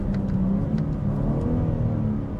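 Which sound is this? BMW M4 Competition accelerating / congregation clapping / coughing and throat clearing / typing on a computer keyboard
BMW M4 Competition accelerating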